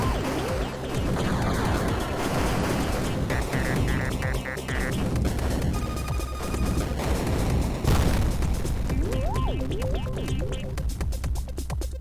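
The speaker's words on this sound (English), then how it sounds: "These explosions are fun" Explosion sound effects from a Space Invaders remake built in Godot: loud, dense booming blasts layered with bursts of synthetic tones and rising electronic sweeps, continuous across the stretch with no talking.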